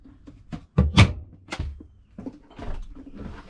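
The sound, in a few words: cabinet door opening on a Beneteau Oceanis 281 sailboat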